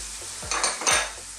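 Thick cooking cream poured into a hot pan, a brief hissing sizzle with a couple of swelling bursts over quiet kitchen background and faint utensil clinks.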